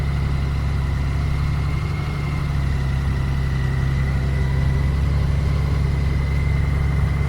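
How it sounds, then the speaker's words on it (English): Honda Goldwing motorcycle engine idling in Florida on its first start of the day after travelling through a flash flood, a loud, steady, close low rumble with an even pulsing beat and no talk. "The bike fired right up here in Florida."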